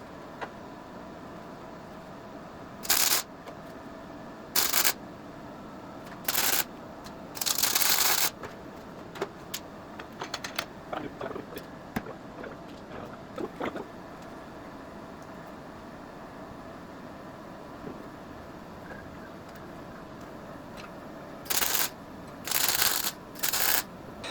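Short bursts of welding on steering parts for a TDI build, sharp crackling sizzles in separate spurts with quiet gaps and faint clicks between, close by and without talk.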